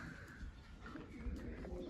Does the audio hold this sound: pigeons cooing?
yes